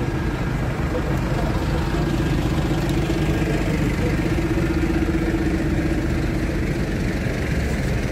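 Tractors idling in a crowd at a farmers' protest in Berlin, a loud, steady low diesel rumble filling the whole stretch while someone talks over it.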